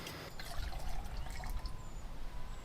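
Water poured into a camping pot for cooking couscous, a soft gurgling trickle with light splashing, quiet and close.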